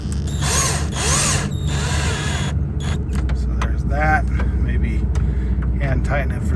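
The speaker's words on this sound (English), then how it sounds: "here's the set with the drill going through" A cordless drill whines in short bursts while driving into a cupholder in a 1999 Ford Super Duty truck, close and loud, with clicks and rattles of parts between the bursts and a voice talking over it.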